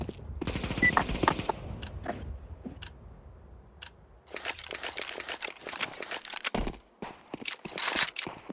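Shotgun fire in a Counter-Strike 2 deathmatch: bursts of sharp gunshots and rapid clicking cracks, some dense fusillades and some isolated single shots with short gaps between, fairly close, no talk.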